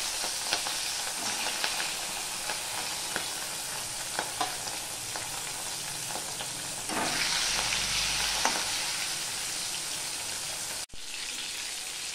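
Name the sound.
fish pieces frying in hot oil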